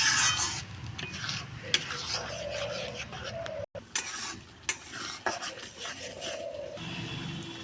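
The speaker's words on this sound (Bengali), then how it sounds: "এবার এটা একদম শুকনো শুকনো করে ভাজা ভাজা করতে হবে।" Ground long bean paste with salt and turmeric being stir-fried dry in a pan, a steady close sizzle under repeated scraping and stirring strokes of a spatula, no voices.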